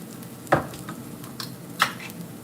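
Diced tomatoes from a pack tipped into a sizzling chicken curry pan, giving two sharp splashy bursts over a steady close frying hiss, with no talking.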